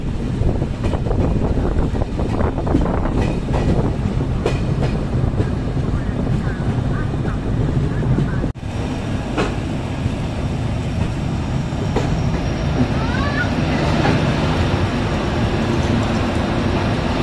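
Train running on the Dibrugarh-Tinsukia line in Assam, with a loud, continuous rumble and rhythmic clickety-clack of wagons over the rails, plus wind buffeting and a brief dip midway, heard from on board.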